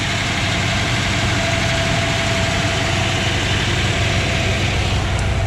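A 1970 Dodge Challenger 440 Six Pack V8 with full roller rockers and resonators with no rear mufflers idles steadily and loudly up close, a continuous rumbling drone with no talking.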